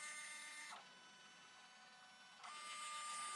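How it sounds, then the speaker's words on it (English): Poolin EOC06 single-needle embroidery machine running a trace of the design outline: a quiet, steady mechanical whir that drops to a softer hum partway through, then picks back up, with no talking. "I'm gonna go over to embroidery on the machine, and I'm gonna do a trace"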